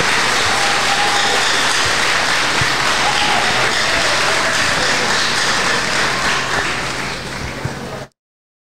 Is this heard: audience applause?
yes